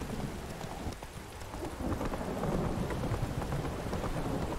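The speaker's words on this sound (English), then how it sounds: "Storm's pretty badass." Steady rain and rumbling thunder of a storm in The Witcher game, a dense wash of noise that swells louder partway through, with faint rhythmic hoof clops mixed in.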